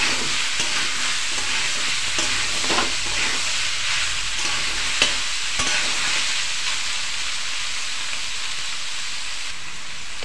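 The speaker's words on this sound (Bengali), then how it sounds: "তো এখানে ভাজা ভাজা একটু হয়ে এসেছে, একটু নেড়ে দেখে নিই।" Mixed vegetables fry in a pan, a loud steady hiss and sizzle running throughout, with scraping stirs of a spatula scattered across it.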